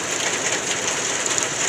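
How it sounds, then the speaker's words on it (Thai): Steady morning rain falls in Bangkok, a dense, even hiss of drops hitting surfaces nearby, with no voices. "เบิ่งฝนตกเนาะค่ะตกแต่เช้าเลยเด้อค่ะ"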